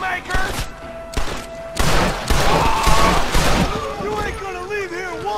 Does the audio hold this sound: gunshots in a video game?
yes